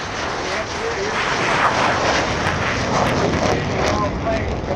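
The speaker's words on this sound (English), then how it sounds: "did the MiG-17 have afterburners?" A MiG-17 jet fighter roars past at the Oshkosh airshow with a steady, loud, broadband engine rush that stays strong throughout, with crowd and talk faintly underneath.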